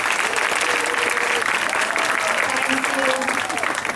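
Warm, dense audience applause for young children after a dance performance, loud and continuous, with a voice briefly speaking and a few tonal calls rising over the clapping.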